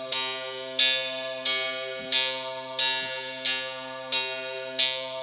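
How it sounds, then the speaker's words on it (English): A sampled bell, processed through the Beatmaker 3 dynamic compressor, strikes seven times at an even pace, each bright metallic hit ringing out with a sustained tail that stays fairly level before the next strike, clear and alone. "that one is kind of letting the bell ring loud."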